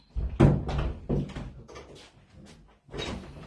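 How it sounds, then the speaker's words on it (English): Indoor door being closed, several sharp wooden knocks and thuds in quick succession followed by a softer bump near the end, close to the listener with no speech. "Close the door."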